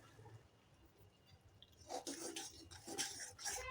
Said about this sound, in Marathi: आणखीन एक मिनटं आपण हलवून घेऊया सतत हलवत राहायचं